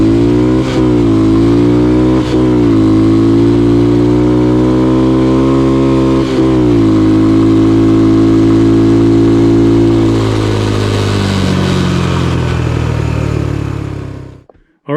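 A vintage Honda dirt bike fitted with a TRX and ATC 125 engine and a 130cc piston revs hard and rides off, its loud, close motor rising and holding steady before cutting out abruptly near the end.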